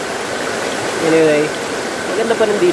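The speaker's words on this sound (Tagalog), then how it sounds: "man-made falls na ginawa nila. Hindi tayo makalapit, masyadong malakas yung ragasa ng tubig eh." A strong man-made waterfall at a camp in Magdalena, Laguna produces a constant loud rush of water, with people talking over it throughout.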